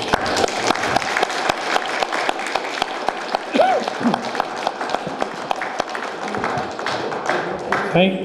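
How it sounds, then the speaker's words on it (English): Audience applause for political candidates at the close of a 2011 candidates forum, a lively room of clapping with sharp individual claps and some thumps, a voice briefly audible near the end. "I think we certainly owe the candidates up here a round of applause"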